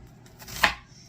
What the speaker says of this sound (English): Now the first thing I'm going to do is just slice up onions